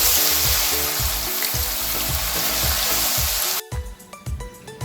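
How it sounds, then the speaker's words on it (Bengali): Steady, loud sizzling of shredded potatoes frying in hot oil, a dense hiss that cuts off abruptly near the end, leaving softer crackles and clinks. "এবারে আমি ঝুরঝুরে আলু ভাজার জন্য আলুটা ছাড়বো এখানে"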